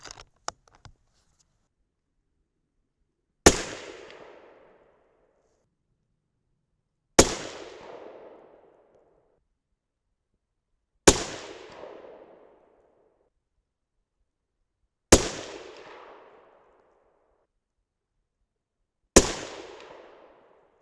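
Five loud 6.5 Creedmoor rifle shots firing 140gr Nosler RDF loads over H4350 powder, evenly spaced about four seconds apart, each a sharp crack with a decaying tail, alone with no talking.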